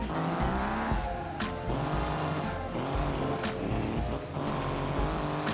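A video-game car drives hard with its engine droning, while its tires squeal and skid again and again in a loud, continuous run.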